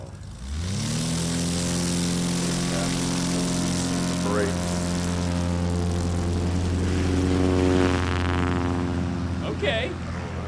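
A STOL propeller airplane takes off at the Music City STOL competition in Gallatin, Tennessee, its engine a loud, close, continuous drone that swells up sharply at the start and holds steady before fading slightly.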